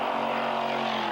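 Race cars from a 1987 GM Motorsport round at West Calgary roar flat out down the front straight, a steady loud engine drone with sustained tonal whine and no break.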